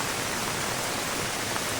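Heavy rain pours over a flooded village road in Devagad, Sindhudurg, with water rushing along it, a dense, steady broadband roar of falling and flowing water, close and unbroken, with no voices.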